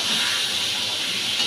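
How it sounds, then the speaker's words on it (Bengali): A fish head frying in a pan gives a steady, loud hiss of hot oil that holds unbroken from start to finish, close and alone, with no talk. "মাছের মাথা ভাজা বসিয়েছি।"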